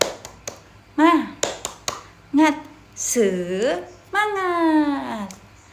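A school class performs a rhythmic spirit clap (tepuk semangat), sharp clap bursts falling in quick patterns between loud chanted voices of children and a teacher.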